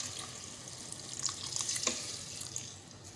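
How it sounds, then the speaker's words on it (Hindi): About a glass of water streams and splashes steadily into a pot of namkeen gosht (salted mutton), a close, continuous pouring sound with faint clinks and no talking. "1 गिलास के करीब हम इसमें पानी शामिल करेंगे।"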